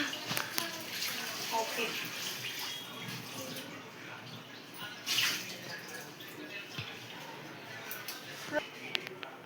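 Tap water runs and splashes as mangoes are washed at a kitchen sink, a soft, steady trickle with small drips and clatters, while a person speaks briefly over it.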